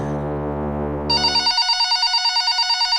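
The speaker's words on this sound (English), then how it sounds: "My phone rang." A telephone bell gives a short ring, then a bright electronic ringtone pulses steadily and loudly on its own, with no voices.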